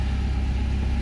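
A 2019 BMW 320i M Sport automatic tourer idles steadily just after starting, a low, even engine rumble heard up close with no talking.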